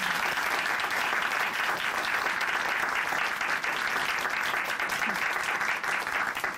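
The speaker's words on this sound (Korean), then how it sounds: "다시 한번 박수 부탁드릴게요" A studio audience on a Christian testimony television programme gives steady, sustained applause for several seconds, dense and even throughout, with no voices standing out above the clapping.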